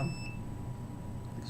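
A microwave detector alarm gives a thin high electronic beep over a low steady hum, brief and close.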